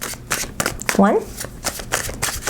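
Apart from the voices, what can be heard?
shuffling a tarot card deck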